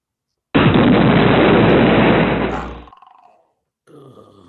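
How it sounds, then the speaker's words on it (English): A single heavy bazooka-style blast bursts in loudly, roars for about two seconds and decays into rumble, followed by a brief low vocal sound after a gap. "Ooh, bazooka"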